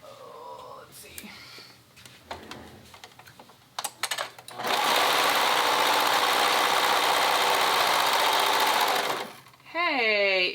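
A sewing machine stitches fabric for a cardigan, starting with a few short bursts and handling noises, then running in one loud, steady whirring stretch of about five seconds before stopping, followed by a brief voice.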